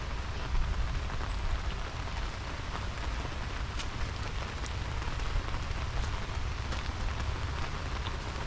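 Steady rain falls on a Georgia garden during a day of flooding downpours, a dense, even hiss with scattered drop ticks and no voices.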